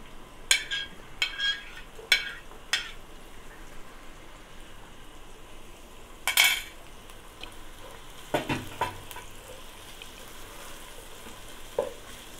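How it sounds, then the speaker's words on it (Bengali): Onions and mixed vegetables sizzle in a hot pan for fried rice, a steady crackling hiss broken by sharp bursts of spattering and scraping stirs at irregular intervals, close and moderately loud with no talking. "তারপরে সবজিগুলো এখন একে একে পেঁয়াজ দিয়ে দিচ্ছি আগে"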